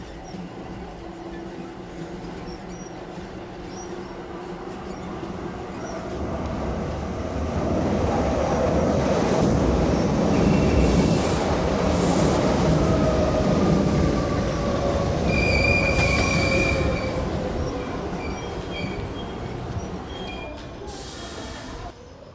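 A passenger train runs steadily along the track, a rumbling clatter that swells in the middle with faint wheel squeals and rhythmic clicks, continuous and fairly close, with no speech over it.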